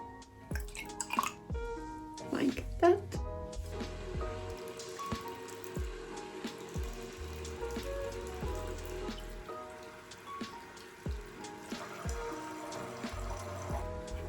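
Water is poured from a bucket onto potted anthurium seedlings, pattering and dripping into the soil in uneven bursts, fairly soft and close, with a few brief spoken words.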